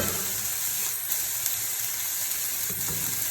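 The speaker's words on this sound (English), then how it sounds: "Keep stirring for about 2 minutes" Chicken and vegetable chowmein stir-frying in a hot pan, a steady loud sizzle and hiss running throughout with faint clinks of stirring, no talk.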